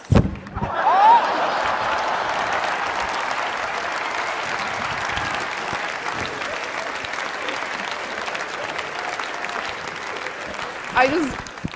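Audience applause fills a talk hall, a steady dense clapping from a large crowd that swells in and holds for several seconds before tapering, with a brief voice at the start.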